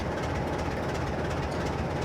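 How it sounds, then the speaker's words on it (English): A Class 47 diesel electric locomotive in a train simulator game rumbles along at a steady pace, a dense continuous engine drone and rail noise that stays loud and even throughout. "this is a diesel electric locomotive"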